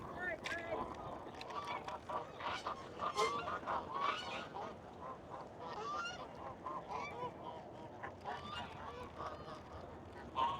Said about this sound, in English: A lot of geese down in this park.